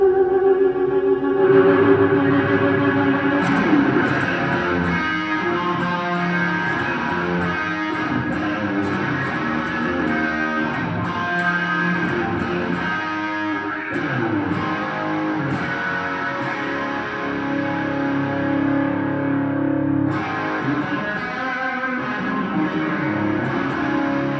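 An electric guitar plays through a fuzz and distortion effects pedal, a continuous thick, buzzing, saturated tone with sustained chords and notes that carries on for over twenty seconds with a brief dip near the end.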